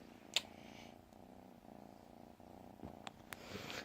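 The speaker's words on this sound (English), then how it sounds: "Oh, you're just full of purrs." A kitten purrs softly and continuously up close, a low steady rumble, with a few faint clicks and rustles over the top and no talking.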